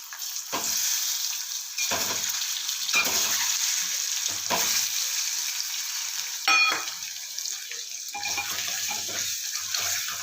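Halved boiled eggs fry in hot oil seasoned with chili powder, turmeric and salt, giving a loud, steady sizzle broken by stirring and scraping bursts.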